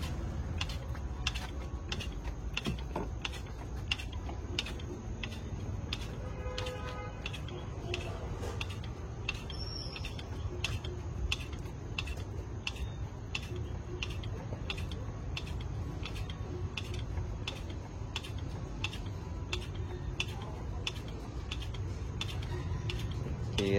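Bánh canh noodle dough is pressed out with two bamboo sticks, giving a long run of quick, sharp, even clicks and ticks over a steady low background hum.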